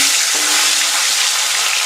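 Salt hitting hot oil before boal fish goes in sets off a loud, steady sizzle of frying oil that stays dense and unbroken throughout, with no talking.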